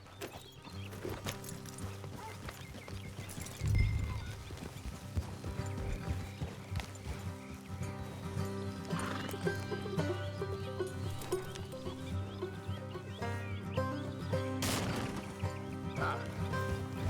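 Horses in the video game Red Dead Redemption 2, with hooves clopping, a whinny and snorts over a steady bed of ambient game music and background sound.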